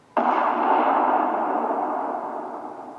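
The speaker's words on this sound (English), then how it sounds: "a tremendous explosion that can be heard for blocks rocks the building" A tremendous explosion sound effect in an audio drama, a building rocked by a blast, bursts in suddenly at full loudness, then rumbles and slowly fades over a few seconds with no voices.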